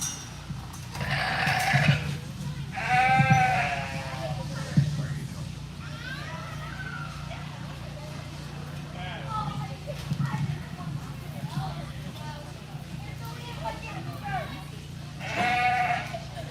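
Ewes bleat repeatedly at a junior livestock show in Cimarron County, several wavering calls rising over a steady murmur of crowd talk and hall noise, with one loud bleat near the end.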